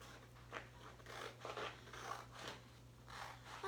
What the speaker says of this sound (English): Cut this apart.